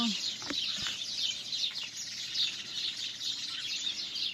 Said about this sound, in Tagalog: Hahanapin natin ang mga ibon sa puno na ito.